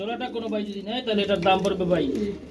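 Kashmiri racer pigeons, a male and female pair, cooing close by in soft rolling calls that swell and fade over a couple of seconds.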